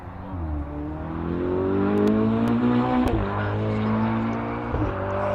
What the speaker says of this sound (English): That sounds Ferrari.